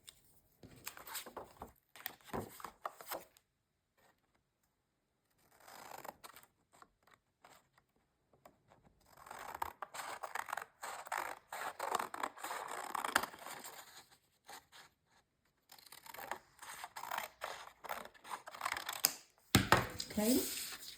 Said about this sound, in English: I'm just going to trim that with my scissors